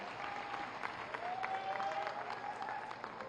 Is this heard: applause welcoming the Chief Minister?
yes